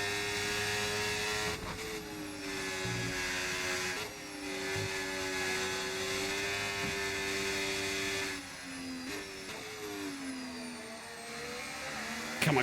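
A Formula 1 car engine in a racing video game at Miami drones steadily at high revs, its pitch dipping and rising with gear shifts, loud and continuous with no talking.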